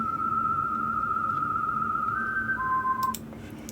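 A cartoon character in the Incredibox Sprunki music game whistles a single clear, steady tone for about three seconds, then briefly shifts to a lower held note before stopping abruptly.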